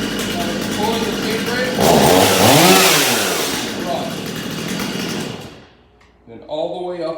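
A chainsaw engine runs with the throttle pulled in from the warm run position. It builds to a loud revving surge in the middle, falls back to a steady drone, and cuts out near the end before a voice speaks.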